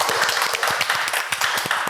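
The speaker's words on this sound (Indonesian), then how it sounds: "Tepuk tangan dulu dong buat kita semua." An audience bursts into brisk, dense clapping for about two seconds during an Indonesian clean-energy talk show, the applause steady and close with no voices over it.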